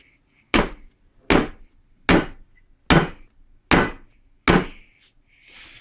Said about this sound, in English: put your hand above it and give it a couple of hard whacks